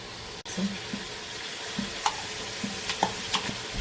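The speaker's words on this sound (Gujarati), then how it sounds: "થોડું અજવાઈન નાખશું તેલમાં, ગરમ તેલમાં" Ajwain seeds hit hot oil for a Gujarati undhiyu, starting with a sharp click, then a steady sizzle dotted with small irregular pops and crackles close by.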